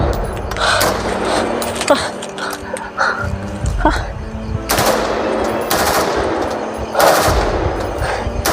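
Rapid bursts of gunfire crack out repeatedly, loud and close, with dogs barking and people talking in between.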